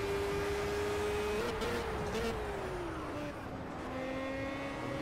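A Formula Gulf open-wheel race car in Project CARS on the Laguna Seca circuit, its engine droning steadily with a rising and falling pitch as it runs at moderate, easy speed, loud and continuous with no talking.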